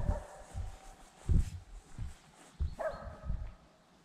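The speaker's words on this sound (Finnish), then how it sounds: "Tuo ilmeisesti ajokoirat haukkuu, niin Otto niille huuta." Hunting hounds bark at a distance outdoors by a rural cottage in autumn, several separate bursts of barking spread over a few seconds with quiet gaps between.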